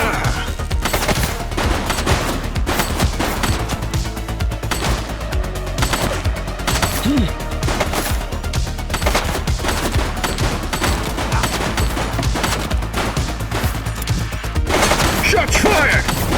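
Dense, sustained gunfire fills a police shootout in the video game The Precinct, with bursts of rapid automatic shots and fusillades rattling loudly and continuously over a steady game soundscape.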